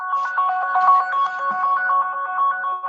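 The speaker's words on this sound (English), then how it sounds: "I like that ringtone." A phone ringtone from an unmuted participant on an online training call plays a steady, repeating electronic melody, loud and close, continuing throughout with no talk over it.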